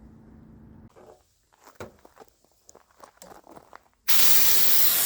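Quiet handling noises and scattered taps lead into a loud, steady hiss of spray that starts abruptly and continues to the end.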